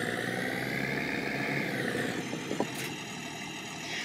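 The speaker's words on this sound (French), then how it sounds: "Le tracteur." A farming game tractor's engine drones steadily at a moderate level, a continuous mechanical hum with a slowly rising whine and a few faint clicks near the end, with no voices.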